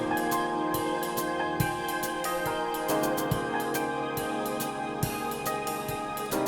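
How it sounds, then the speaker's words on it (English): Jazz drum kit programmed in music production software plays a swing groove: steady ride cymbal pattern with soft kicks and snare hits, alongside sustained tonal backing, continuous and fairly loud with no talking. "And what I do is layer some nice jazz drums."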